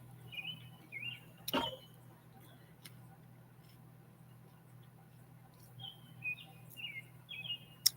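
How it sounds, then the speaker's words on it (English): Birds call outdoors at a campground before a storm, with short chirps and tweets in scattered bursts at moderate distance, a sharp tick near the start, over a low steady hum. "I think the birds even know that it's going to storm or something because I can hear them"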